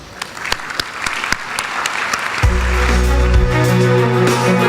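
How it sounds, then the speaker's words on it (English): Warm applause at a corporate awards gala honoring the Asia CEO Award Board of Judges, dense clapping from a large audience that swells, then continues under a loud low musical swell in the second half. "another warm round of applause for our Asia CEO Award Board of Judges"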